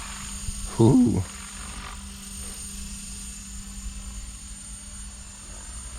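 A Blade Fusion 550 RC helicopter hovers with a steady, fairly faint rotor whir throughout, and a brief loud vocal exclamation sounds near the start.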